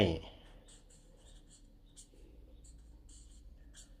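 A pen scratches across paper in short, close strokes and scribbles, quiet and dry with small pauses between marks, set against a faint room hum.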